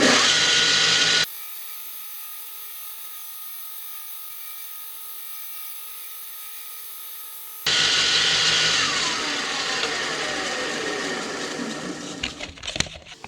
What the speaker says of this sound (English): we're over at the disc sander, belt sander